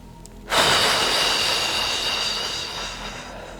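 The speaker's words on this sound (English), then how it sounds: "Using your breath once more, breathing in." A single long, deep breath drawn in during a calming tapping and yin exercise, starting abruptly and holding as a steady airy rush that slowly fades, close and fairly loud, no talk.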